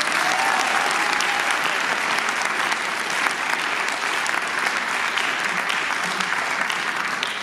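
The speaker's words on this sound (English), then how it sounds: "just give a round of applause to Max for all the work he's doing with our students" Audience at a jazz concert applauding, a thick, even roar of clapping hands that stays loud and sustained throughout, with faint crowd murmur beneath.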